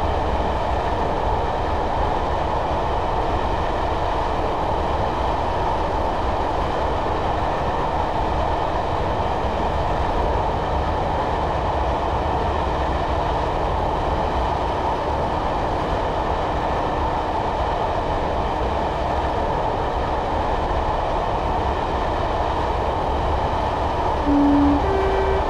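A Class 111 diesel multiple unit runs steadily along track in Train Simulator 2015, a constant droning engine and rolling wheel noise with no talk, holding even and loud throughout.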